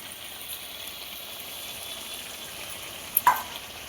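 Pre-fried potatoes and figs are stir-fried together in a pan for a fig curry. A faint, even sizzle runs throughout, and a short utensil clack sounds near the end.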